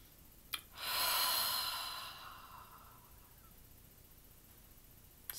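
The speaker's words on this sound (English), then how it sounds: "Big breath." A single big, deep breath drawn in and released as a long, airy exhale, close and clear against quiet room tone.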